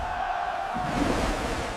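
Huge crowd gathered to watch a ship's hull launched into the water, a continuous roaring wash of many voices that swells slightly midway and holds loud and dense throughout.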